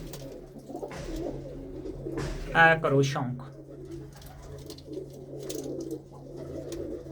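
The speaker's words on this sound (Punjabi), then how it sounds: "ਖੱਟੀਆਂ ਅੱਖਾਂ ਦਾ ਇਹ ਕਬੂਤਰ ਆ" Racing pigeons, one with a blue chest, coo softly in a low steady murmur close by, while someone talks over them.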